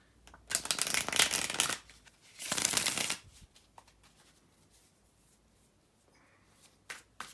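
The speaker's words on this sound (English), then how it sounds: "here to shuffle the tarot cards" Tarot cards being shuffled by hand, two loud bursts of riffling and bridging followed by quieter card handling and a few soft taps, close to the microphone with no talking.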